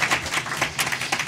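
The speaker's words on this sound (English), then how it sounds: "Can we get a round of applause for this morning so far?" Brief burst of audience applause at a drug-pricing forum panel, dense clapping that swells and fades quickly, moderately loud in a hall.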